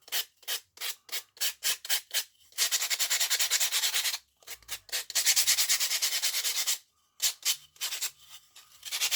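Repeated rasping strokes of sandpaper on wood, short quick rubs, then longer sustained passes, close and fairly loud with brief pauses between bursts.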